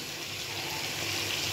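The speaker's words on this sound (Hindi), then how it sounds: "चले मैं पानी डाल लूँ, मेरा हाथ एक है, पानी मैंने डाल लिया।" Water pours steadily into a kadhai of potatoes and mutton, a continuous close gushing hiss with no pauses and no talk.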